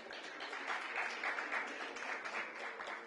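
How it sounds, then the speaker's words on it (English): Applause rises from an audience at a felicitation ceremony in Delhi, a soft, continuous wash of many hands clapping heard from a distance. "All right, can we have a big round of applause?"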